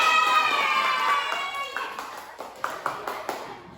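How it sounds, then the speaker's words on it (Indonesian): A classroom of students gives a short round of hand claps for a group, a few sharp, separate claps sounding after a fading tonal sound. "Oke, kasih tepuk."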